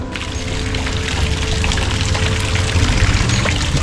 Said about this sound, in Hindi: ये पानी का झरना चल रहा है